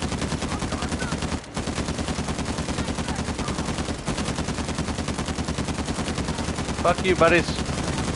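Rapid automatic gunfire from the Uncharted 4 video game rattles steadily and loudly throughout, with a brief gap, and a voice briefly talks over it near the end.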